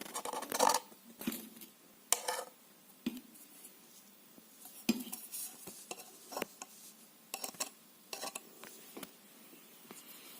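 A spoon stirs and scrapes through screen-printing paint mixed with premium in a container, giving scattered soft clinks and scrapes at an irregular rhythm, quiet and close, with no voices.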